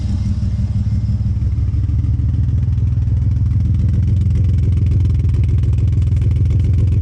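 Vauxhall car engine, a 2.6 with good oil pressure and a new fuel filter, idles steadily and loudly up close, a continuous low rumble with faint clatter throughout, no voices.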